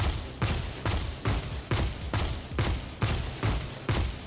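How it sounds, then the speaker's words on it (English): Nation of Beasts hand cannon firing in Destiny 2: about nine heavy, thudding shots in a steady rhythm, roughly two per second, each a dull, muffled punch with a short decay, fairly loud and with no talk over them. "I think it's funny how the gun sounds like you're smacking a bag of like sand."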